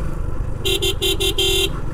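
A tourist jeep on the mountain road from Bandarban to Thanchi sounds its horn in five quick close blasts over rumbling engine traffic.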